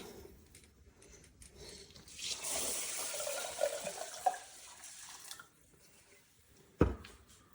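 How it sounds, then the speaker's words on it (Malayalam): Water pours into a pot of sticky cooking rice for a few seconds with a soft splashing trickle, fairly quiet, followed by a short clunk near the end. "വെള്ളം ഒഴിച്ചു കൊടുക്കാമേ"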